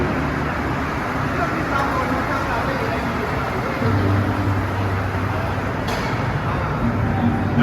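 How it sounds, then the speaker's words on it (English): An older MR-73 Montreal Metro train arrives on the Snowden-bound line, a steady loud rumble and roar that swells slightly partway through, with a faint squeal near the end. "here comes a Snowden-bound Metro with the older equipment"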